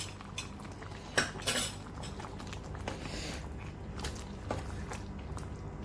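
Chicken with garam masala being stirred in a pot, with a few close metallic spoon clinks and scrapes over a quiet, low background.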